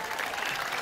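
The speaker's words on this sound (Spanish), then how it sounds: "Un aplauso para Ituzaingó" Brief burst of crowd applause at an outdoor public inauguration event in Ituzaingó, a steady dense clatter of many hands clapping, moderately loud.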